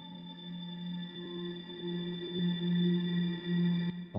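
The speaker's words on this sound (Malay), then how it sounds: "Ada bunyi macam eerie space kan, macam seram-seram kan." Eerie, space-like synth tone from a music app, sustained steady drones with a low hum and a wavering middle layer that swells slightly, moderately loud and alone without talk.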